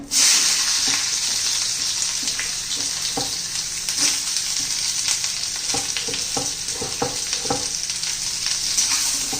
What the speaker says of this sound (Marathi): आता त्याच्यामध्ये कांदा घालून घेऊया.